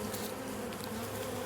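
Honeybees swarm around an open hive in a steady, dense buzz close to the listener, a continuous drone with no talking.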